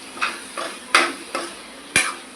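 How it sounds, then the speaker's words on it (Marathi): Metal lid lifted off a cooking pot of methi and masoor dal, giving five sharp clinks and clatters spaced roughly evenly, close and fairly loud with quiet in between. "तर मी आता झाकण काढते"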